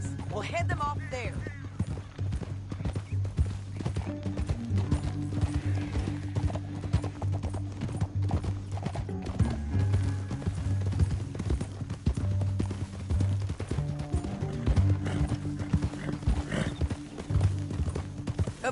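Horse hooves pound in a steady galloping clip-clop through Red Dead Redemption 2, with occasional neighs and whinnies, close and loud, while voices talk over the riding.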